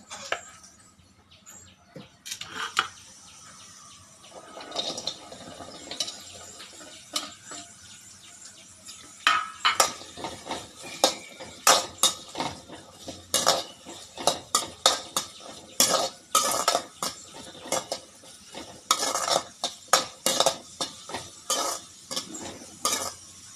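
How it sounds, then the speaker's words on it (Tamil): Okra is sautéed in a little oil in a kadai on a stove, with a metal spoon scraping and clinking rhythmically against the pan over a soft sizzle, sparse at first and then steady. "வெண்டங்காய் வணக்கிறதுக்கு ஸ்டவ் பற்றி வச்சு கடாயி வச்சுருக்குறேங்க அது ஆயில் கொஞ்சமாக ஊற்றிக்கலாம்"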